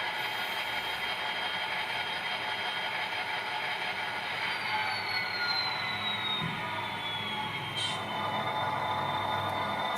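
Bowser SD40-2F model diesel locomotive idling, a steady mechanical hum with faint ratcheting and gear-like clatter running continuously, with a slight whine drifting downward midway.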